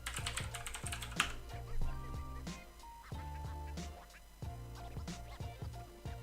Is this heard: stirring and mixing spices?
no